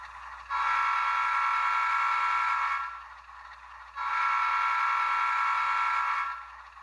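Two long blasts of a model train horn from a DCC sound decoder, each lasting a couple of seconds with a short gap between them, steady and fairly loud with no talking.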